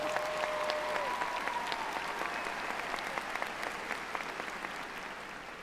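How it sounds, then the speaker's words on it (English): Sustained audience applause filling a hall at a 2019 undergraduate commencement ceremony, steady dense clapping heard from a distance, fairly soft and gradually tapering. "let's give them another round of applause"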